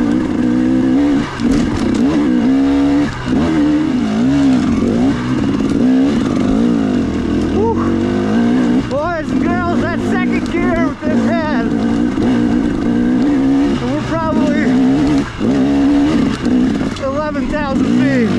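A trail motorcycle engine drones steadily and revs up and down while riding singletrack at about 7,000 feet, loud and close throughout, with speech over it at times.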